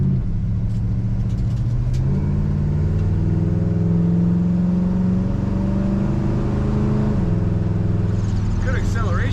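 A 1966 Chevrolet Impala SS hardtop accelerates through the gears, its exhaust rising in pitch, dropping at a shift, then climbing again. It is heard close from inside the car, loud and steady.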